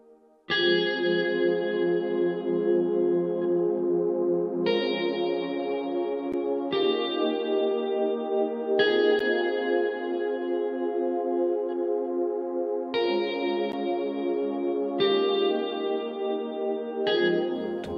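Sustained electric guitar chords drenched in heavy reverb and delay, long washy tones shifting every couple of seconds, loud and continuous, without voices.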